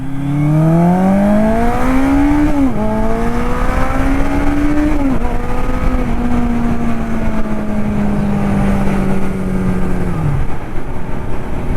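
A 1981 Suzuki GS850 cafe racer, an older naked motorcycle, accelerates hard onto a highway, its engine note climbing through several gears with brief dips at each shift, loud and close with no talking.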